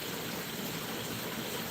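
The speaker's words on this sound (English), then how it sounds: "You're going to be excited to get into this creek here." Water flows steadily through a clean shrimp creek, a dense, even rushing and babbling wash that stays constant and fairly loud throughout with no voices.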